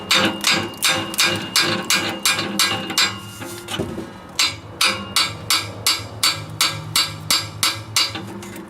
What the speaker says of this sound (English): Maybe I might have to might try just to hit them with the hammer.